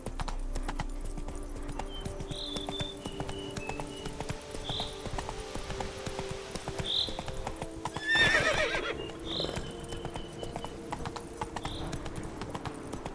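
A horse in The Witcher 3 trots with a steady clip-clop of hooves, giving short whinnies and snorts over it, while faint background talk sits low in the mix.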